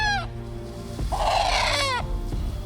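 Black chickens in a village setting near woods, with a rooster crowing loudly and close, its call rising and falling, followed by hens clucking nearby.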